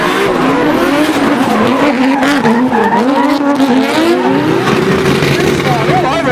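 Race cars on a circuit with front wheels locking up, long wavering tire squeals over loud engine roar, close and continuous, with a commentator talking over.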